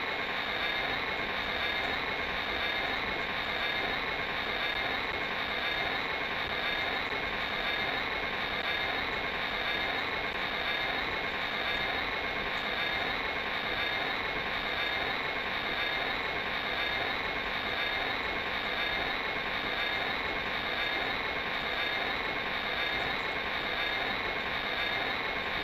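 Airplane engine in YS Flight Simulator, a loud, steady, unbroken engine drone with a constant rumbling hum through the whole stretch, no talk over it.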